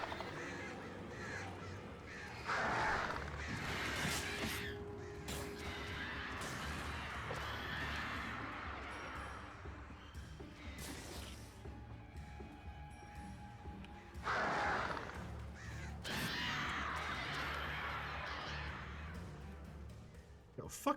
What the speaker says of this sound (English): fuck these birds.